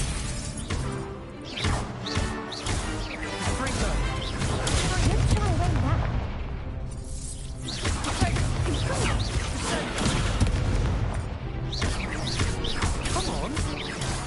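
In Hogwarts Legacy, a spell-battle sequence is loud with crashing, booming impacts and fiery bursts that come in repeated waves, with game voices heard among the chaos.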